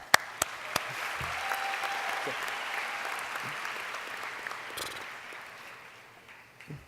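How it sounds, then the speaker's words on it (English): Graduation ceremony crowd at a high school applauding in a large venue, a soft, steady patter of many hands with a few sharper nearby claps and faint voices mixed in. "we should all give ourselves a round of applause"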